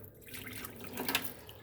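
Freeze-dried ramen noodles being rinsed in a bowl, giving soft running and splashing water with a few brief drips, fairly quiet and close.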